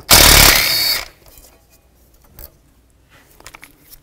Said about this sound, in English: Take this bolt off right here, use a 12 millimeter socket.